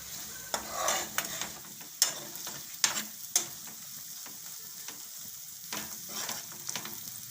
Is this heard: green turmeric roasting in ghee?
yes